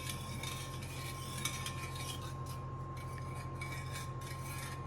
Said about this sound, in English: And we're just gonna stir that up.